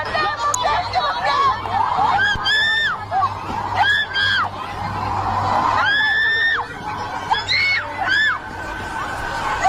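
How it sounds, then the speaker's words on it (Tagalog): Crowd of people screaming and shrieking at a river where a creature was seen, repeated high-pitched yells in bursts rising over steady chatter and background babble. "makikita sa video ang sigawan ng mga tao dahil sa nakita nilang nilalang na tinatawag nilang Inkenyamba sa isang ilog na ito"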